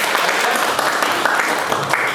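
An audience claps for the participants after a panel discussion, a short burst of dense, fairly close applause that carries steadily for a couple of seconds.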